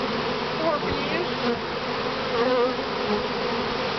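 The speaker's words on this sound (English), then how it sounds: "there's a bunch of bees stuck in it now" Bees buzz continuously around an open top bar hive during a honey harvest, a dense close drone of many insects with no talk.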